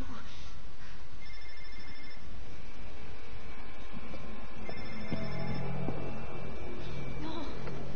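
A phone rings in the video game inFAMOUS First Light, with repeated electronic ringing tones and a hum under game ambience while a voice speaks in French.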